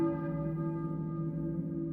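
In the 1999 video game Silent Hill, a church bell rings with a sustained, humming tone that hangs steadily and softly, fading slowly without fresh strikes.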